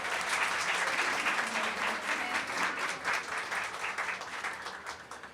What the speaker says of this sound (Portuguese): Agora sim, palmas para Carla Madeira.